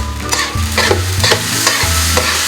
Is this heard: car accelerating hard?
no